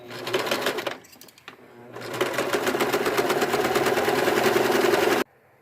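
A sewing machine running a slight zigzag stitch along a swimsuit seam, with a short burst, a pause, then a longer rapid whirring run that stops abruptly, close by.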